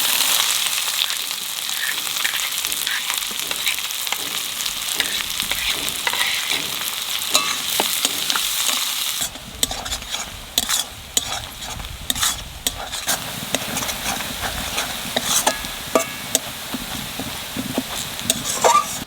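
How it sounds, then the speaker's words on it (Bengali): Onions frying in hot oil for a chicken curry, a steady loud sizzle with crackling pops that grows busier and more spattery partway through, near and continuous with no talking. "এখন হালকা আছে পেঁয়াজটা ভাজবো।"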